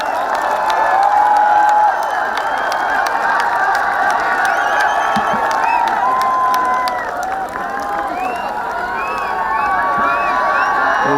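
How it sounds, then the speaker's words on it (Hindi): A large mushaira audience at IET Indore on 8 March 2020 welcomes poet Rahat Indori with loud, sustained applause, cheers and whistles filling the hall without letup. "तो जोरदार हाथ उठाकर तालियां बजाइए, राहत साहब का इस्तकबाल कीजिए।"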